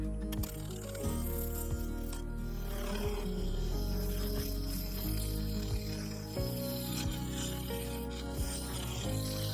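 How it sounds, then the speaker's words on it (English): A full-size carbide finisher scrapes epoxy resin off a spinning segmented sapele vase on a woodturning lathe, making a continuous rough rasping and chattering under the steady hum of the machine, with faint rhythmic ticks. "I set to cutting away the remaining resin covering the lower segments. This was done with a full-size carbide finisher."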